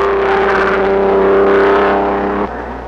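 Mercedes racing cars from the early era of Grand Prix racing howl through curves in a sustained, loud, droning engine note that holds steady, then drops away near the end.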